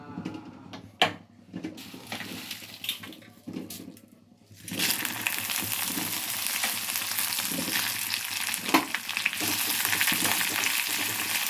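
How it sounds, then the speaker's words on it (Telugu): Dried red chillies and cumin seeds fry in a kadai on a stove for a tomato chilli chutney. Quiet clatter and knocks come first, then a loud, steady sizzle sets in and continues to the end. "ముందుగా ఎండుమిర్చిని కొంచెం జీలకర్ర ఎండుమిర్చి లైట్గా వేయించుకుందాం ఫ్రెండ్స్"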